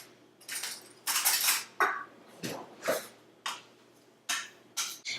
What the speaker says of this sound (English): I'm going to pass it through a sieve just to mix a little bit of air inside of this and make it a little bit lighter